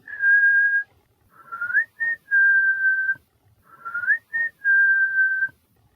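A person whistles an imitation of a bird call, likely a blackbird, in two clear repeated phrases, each a long steady note followed by a rising chirp and another sustained tone, loud and close.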